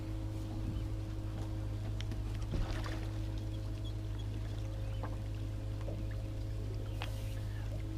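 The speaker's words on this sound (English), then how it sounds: "you start pulling that in, and it will dump all the water out the big end" A boat drift sock being hauled in on a colored retrieval rope, water sloshing and dumping out of its big end beside the hull, with a steady engine or water hum and a few splashy bursts throughout.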